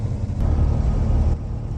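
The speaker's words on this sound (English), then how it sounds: "we're cruising down the road really nice here" A 2025 Freightliner S2RV motor coach cruises down the road with a steady low rumble and road noise, continuous and close, with no talk.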